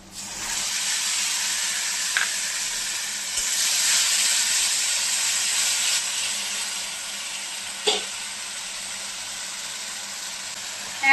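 Mustard and chili paste hitting hot oil with mango in a pan, giving a loud, steady sizzling hiss that swells and holds, with a couple of faint utensil knocks along the way.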